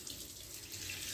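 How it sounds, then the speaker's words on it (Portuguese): Tap water runs steadily at moderate pressure over beef bones being rinsed in a cooking pot for bone broth, a constant close splashing hiss with no voices. "Aí eu vou começar a lavar em água corrente e vou devolver na panela."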